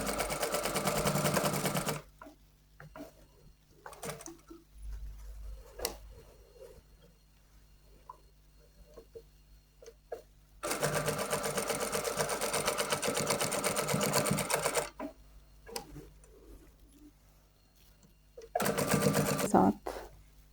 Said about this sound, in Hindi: जो पिछला गला है उसके फैब्रिक को अंदर की तरफ करते हुए आप सिलाई लगाएंगे